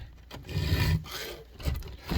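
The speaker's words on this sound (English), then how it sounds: "I'm just gonna grab a different file. Then we start working on that gullet." Hand file sharpening the gullet of a chainsaw chain, making harsh metallic rasping strokes, close and loud, in a steady back-and-forth rhythm with brief pauses between passes.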